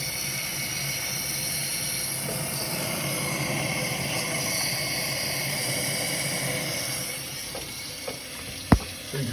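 Plain water running steadily from a Buick Grand National cooling system during a coolant flush, a continuous broadband wash with a few sharp knocks near the end.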